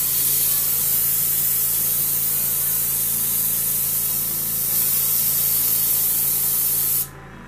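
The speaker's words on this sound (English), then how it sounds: "So we've got my airbrush with some white here, we're just going to make sure real quick that mixture's right." An airbrush sprays white paint for weathering an N scale boxcar, a steady close hissing spray that runs continuously and then cuts off abruptly near the end.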